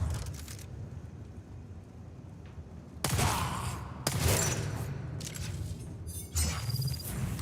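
Gunfire from the video game Dune, a few loud broadband shots and bursts at about 3, 4 and 6.3 seconds, standing out sharply over a steady rumbling game soundscape.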